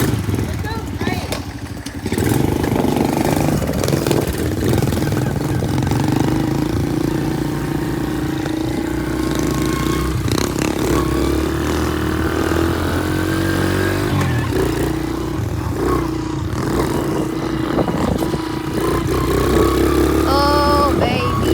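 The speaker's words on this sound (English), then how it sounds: "Let the bikes warm up, son." Pit bike engines idle as they warm up before a game of tag on a track, a steady close putter that swells slightly and keeps going for the whole stretch, with people talking over it.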